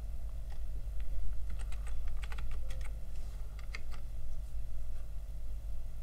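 Someone types on a computer keyboard while entering ERP form fields, irregular bursts of quick, light key clicks over a low steady hum, fairly quiet and without speech.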